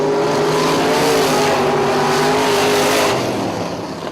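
A non-wing sprint car engine roars at high revs with a droning whine during a race, sustained and close, then eases slightly near the end.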